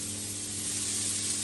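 Onions dropped into a hot pan for a vegetable lasagne, giving a steady, soft hissing sizzle that fills the short moment without speech.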